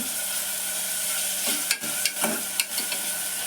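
Chopped tomatoes stirred into a sizzling pan of sambar, a steady loud frying hiss with a few scraping stirs of a spoon near the end, close by and with no voices.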